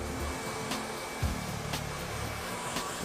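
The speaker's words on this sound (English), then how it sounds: "you want to take your hair dryer and you want to dry that in for about say 5 minutes" A hair dryer blows steadily at close range in a salon styling session, a continuous even whoosh with small shifts as the airflow moves.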